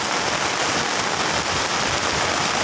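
Heavy rain pours steadily during a monsoon spell in western India, a dense, loud and unbroken hiss of drops striking surfaces with no voices.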